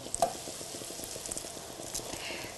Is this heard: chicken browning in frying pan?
yes